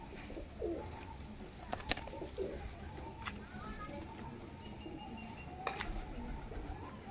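Faint cooing from pigeons, including a wing-clipped bird, sits low under a broad wash of background noise, with a couple of sharp knocks and brief sounds of a person nearby.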